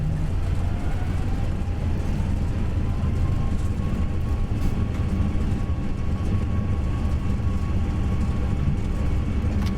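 Thrust reversers roar on an Airbus A320 landing in the FSLabs flight simulator game, a loud, sustained low rumble of engine noise as the aircraft rolls out, with no talk over it.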